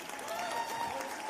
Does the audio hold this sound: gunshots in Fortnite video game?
no